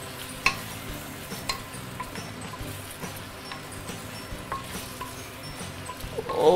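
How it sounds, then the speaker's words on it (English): Long beans, curry leaves and garlic stir-frying in a wok for curry chicken, giving a steady soft sizzle with repeated light scraping and clacks of a utensil, no talk. "Give it a few stir."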